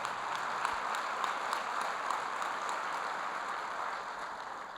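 An audience at a business market outlook event applauds Mayor Paul with dense, steady clapping that holds evenly and then starts to thin out near the end.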